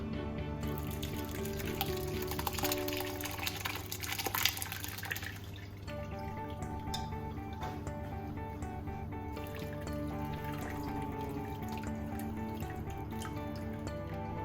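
Whey drains as paneer is strained through a muslin cloth set over a strainer, giving a continuous trickling and dripping of liquid that runs steadily throughout.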